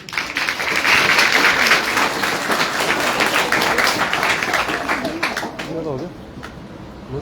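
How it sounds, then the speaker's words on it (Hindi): Enthusiastic audience clapping for the school principal at a quiz event in Shimla, loud and sustained with a voice speaking over it toward the end. "जोरदार तालियां"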